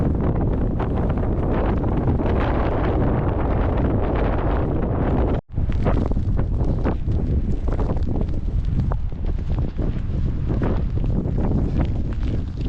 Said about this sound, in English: This wind has been much, much stronger than what I was expecting from the forecast.